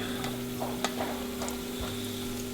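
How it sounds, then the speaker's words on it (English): Oil sizzles and crackles steadily as breaded carp ribs pan fry, with a few sharp pops and light clinks over a low background hum. "we're going to try pan frying them here"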